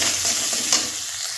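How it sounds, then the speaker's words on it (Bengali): Spices are sautéed one by one in a pan, giving a steady, close sizzle with occasional soft stirring scrapes. "একে একে সব মশলা দিয়ে কষিয়ে নিলাম"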